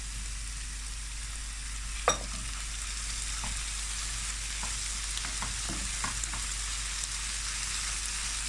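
Meat fries with a spoonful of red pepper paste in a hot pan, giving a continuous close sizzle with a few sharp pops and scraping stir sounds, and no voices.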